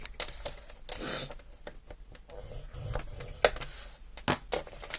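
Cardstock being scored for a mini album pocket, with repeated sharp taps, clicks and short scraping strokes close to the microphone, no talking.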